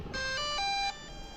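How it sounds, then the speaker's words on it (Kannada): A DJI Air 2S drone powers on, and its gimbal moves into position to a short startup chime of three clean, electronic tones in steady succession, heard close and fairly quiet against light background hiss. "ಸೊ ನೋಡಿ ನಮ್ಮ ಡ್ರೋನ್ ಇವಾಗ ಆನ್ ಆಯಿತು ಗಿಂಬಲ್ ಕೂಡ ಪೊಸಿಷನ್ ತೊಗೊಳ್ತಾ"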